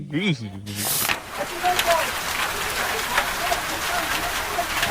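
Steady rain patters across a surface after a brief burst of voice at the start, continuing as a dense, even hiss throughout.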